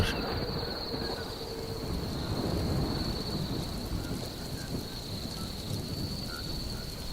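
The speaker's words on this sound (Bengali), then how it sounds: "বিছানার উপর বসতে না বসতেই শুরু হলো প্রচন্ড ঝড়" A violent cartoon thunderstorm sounds as a continuous roar of heavy rain and low rumbling thunder, steady and full throughout, with a faint high tone running over it.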